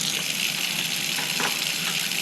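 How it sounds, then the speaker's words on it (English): Hot water runs steadily from a tap in a continuous, close, hissing stream, with slight splashing changes as a small jewellery piece is held under it. "So we're going to heat it up under hot water."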